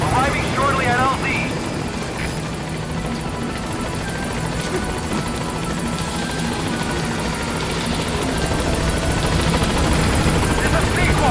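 Pequod helicopter arriving at a landing zone in Metal Gear Solid V, a continuous rotor and engine drone holding steady and close, with brief radio-style voice chatter early on.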